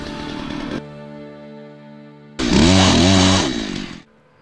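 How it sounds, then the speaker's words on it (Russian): A chainsaw idles with a steady hum, then revs loudly into a harsh, roaring cut through branches of an underwater tree for about a second and a half before dropping back. "Спиливаем их бензопилой как можно ближе к стволу"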